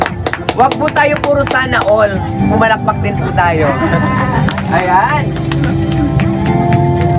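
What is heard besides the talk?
crowd applause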